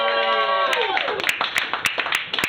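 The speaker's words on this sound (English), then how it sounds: "Give another round of applause." Scattered applause and a few sharp claps from a comedy night audience, following a voice that trails off at the start.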